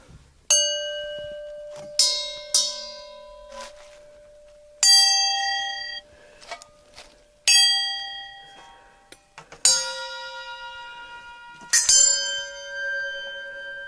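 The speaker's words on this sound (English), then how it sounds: "You can get some great sounds with just hitting on brass objects." Brass objects are struck one at a time, about ten separate hits, each giving a bright metallic ring that slowly fades; some strikes overlap with lingering tones.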